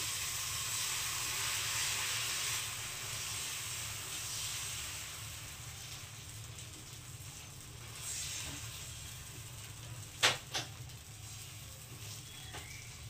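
Garlic paratha batter frying in a pan, a quiet steady hiss and sizzle running throughout, with two sharp brief clicks near the end.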